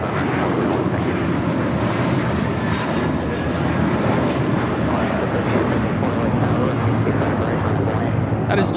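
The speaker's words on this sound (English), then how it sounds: "That is JetBlue 1874 taking off to Newark on the A321." A JetBlue Airbus A321 takes off from LAX, its jet engines roaring in a broad, sustained wash of noise that holds steady throughout, with a voice speaking over it.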